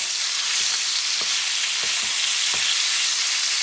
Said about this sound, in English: start cooking this meat. Be careful, it's hot. And you start breaking it down